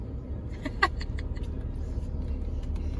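Car slowly reversing under a nervous first-time driver, a low steady engine idle hum with faint scattered clicks and one sharp tick near the start.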